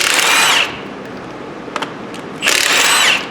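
An impact or power tool with a 19mm socket working the lug nuts on a 2011 Chevrolet Impala, two loud whirring bursts at the start and the end separated by a short quiet pause, heard close up.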